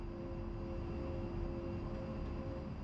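An A-10C jet takes off in DCS World with a steady, muffled engine roar and a faint whine above it. The sound stays even the whole time and no one speaks.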